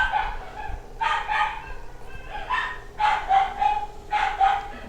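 Dogs bark outside, several loud yapping bursts in an irregular rhythm over about five seconds, fairly close, with no one talking.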